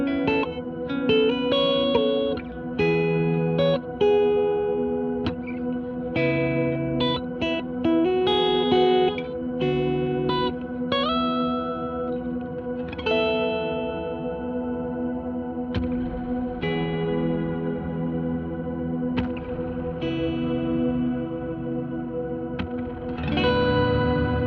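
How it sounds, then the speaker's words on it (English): Electric guitar through a stereo reverb pedal playing notes and chords that ring out into a wide, lush reverb tail, with no talking. "You have two wonderful reverbs"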